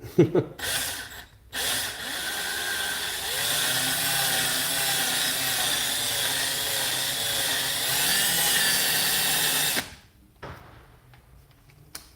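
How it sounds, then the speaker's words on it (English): Power drill boring into the body of a cheap guitar near the pickup, a steady whining, grinding run of about eight seconds, close and loud, with brief bumps and clicks before and a drop-off after. "Try to not damage the front of the pickup with the drill bit."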